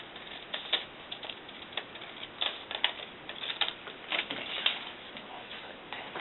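Scissors snip through a small knit doll sock, cutting off its top; a run of soft, close clicks and snips keeps up at an even pace throughout, with no talk.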